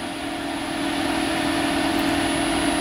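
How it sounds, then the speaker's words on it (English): A Renault Zoe Intens Q90 Z.E.40's cooling fan runs under the hood during rapid charging, a steady near whir with a constant tonal hum that swells slightly and holds without a break. "here on the car engine you can hear the ventilator turning on"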